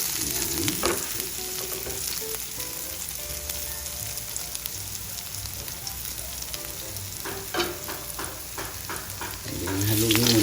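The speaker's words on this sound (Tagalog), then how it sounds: "bali igigisa lang natin yung luya." Ginger sautéing in a pan for a native chicken dish: a loud, continuous sizzle and crackle lasting about ten seconds, with light scrapes and clinks of stirring and a surge of frying near the end, no voices.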